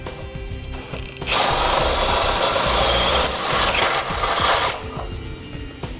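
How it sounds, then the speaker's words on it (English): A step drill bit whines steadily through a metal Roadmaster base plate on a 2007 Jeep Liberty for a few seconds, loud and close, over a constant mechanical background hum. "I'm going to come back with a step drill bit and I'm going to drill it out"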